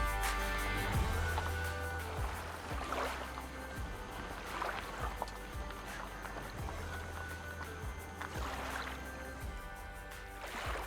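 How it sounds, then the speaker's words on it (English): A motorboat carries passengers far out over open water, its engine droning steadily with low hum and harmonic tones while water splashes and hisses against the hull in periodic surges. "Jude and Alicia boating us 20 miles out into the middle of nowhere"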